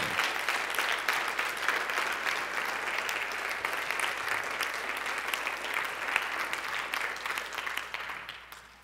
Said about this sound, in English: clap for Dan too